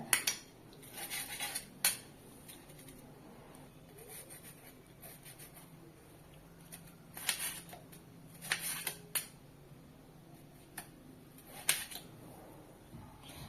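A knife works through tomatoes for pepper rasam, with scattered sharp clicks and taps of the blade against a board and dishes between quiet stretches, close and fairly soft.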